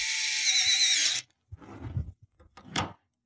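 A power driver reinstalls a screw on a Federal Signal Vision SLR light bar pod, giving about a second of close, high whirring. A few soft clicks and handling knocks follow.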